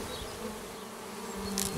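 Carpatica honeybees in a mini hive hum in a close, continuous buzz, steady throughout with a slight swell near the end.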